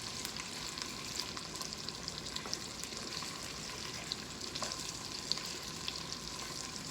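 Wild duck browning in a pan gives a steady, even sizzle with faint crackles and small pops throughout, continuous and close, with no voices.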